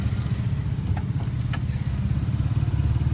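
A 2024 Honda 125 motorcycle being ridden, its steady low engine thrum running continuously and close up, with a couple of faint clicks and no voices.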